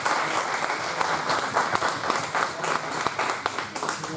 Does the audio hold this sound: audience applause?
yes